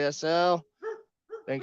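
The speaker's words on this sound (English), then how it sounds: "Sorry about my dog." A dog barks in short, loud bursts close by: one long harmonic bark followed by two shorter yips, with someone speaking briefly in between.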